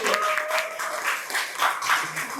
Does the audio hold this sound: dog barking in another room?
no